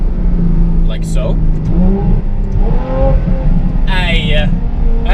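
A 2016 Ferrari F12 accelerates hard on a country road, its engine rising and falling in pitch through shifts with a steady rumble underneath, loud and close, while someone talks over it.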